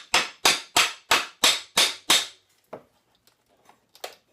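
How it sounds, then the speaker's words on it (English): Hammer blows knocking apart a wooden pallet to free its nails, seven sharp loud strikes in a steady rhythm followed by a few fainter scattered knocks and taps, no voices. "hammer it back in, you can expose the nail head and pop that guy out"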